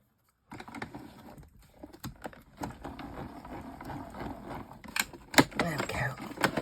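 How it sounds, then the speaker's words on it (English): Die cutting machine cutting a card, with irregular close clicks, taps and rattling mechanical knocks after a brief silence, getting louder toward the end. "I'm going to put it into my die cutting machine"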